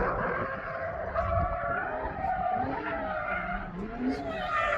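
Car tires skidding and squealing at an autocross event, a steady sustained screech with wavering pitch, heard from a distance, with engine noise and talk mixed underneath.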